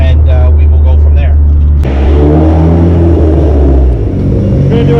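Turbocharged Dodge SRT-4 on a dyno, its engine droning loudly and steadily, pitch shifting as it climbs through a third-gear pull; heavy close engine noise fills the whole stretch.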